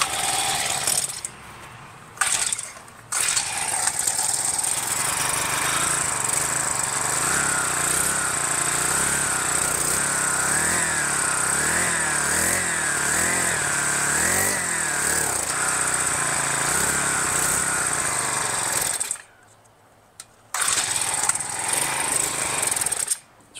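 A mini dirt bike engine runs raggedly for about twenty seconds, surging and faltering as it starves for fuel, close and loud, with brief cut-outs near the start and one longer drop in the middle of the run.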